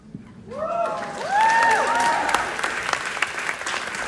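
An audience breaks into applause that swells and holds steady, dense clapping with some whistle-like tones mixed in at the start.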